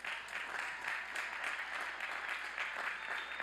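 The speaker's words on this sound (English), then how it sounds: "Let's give them a round of applause." An audience at a university spring commencement applauds summa cum laude graduates with steady, moderately loud clapping that carries on evenly throughout.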